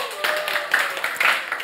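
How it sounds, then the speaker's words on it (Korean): A church congregation at a Korean Sunday service claps briefly in uneven bursts, fairly close and moderately loud, with a faint tone lingering in the background. "우리 박수하겠습니다"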